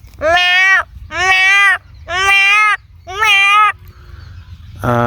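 A person imitates a cat's meow with four drawn-out, tonal mewing calls in a steady rhythm, each nearly a second long, loud and close, with a short noise at the end.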